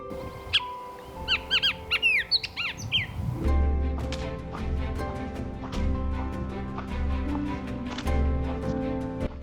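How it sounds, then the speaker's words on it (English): Song of a striking orange-and-black desert bird in a stand of mature trees along the Pacific Crest Trail: a run of clear, rapid whistled phrases, fairly close, then other chirps over a steady low rumble. "Striking bird, orange and black plumage. Very distinctive song as well."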